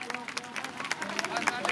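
A crowd claps at a village ribbon-cutting ceremony during the Tiyan da mela in Sodhian village, with dense, quick, uneven claps throughout and talk and murmur mixed in.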